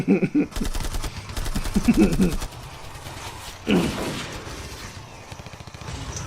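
Rapid automatic gunfire in the video game Shadows of Korea, several quick bursts of rattling shots with pauses between, loud and close over a steady game soundscape.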